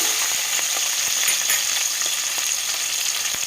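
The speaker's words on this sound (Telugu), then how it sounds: "దీంట్లో పచ్చిమిరపకాయలు క్రష్ చేసుకున్న చిన్నెల్లిపాయలు వేసుకొని ఇవి కూడా కొంచెం వేయించుకొని" Crushed green chillies and shallots fry in hot oil with a continuous, close crackling sizzle, broken by soft clicks of stirring, and no voices.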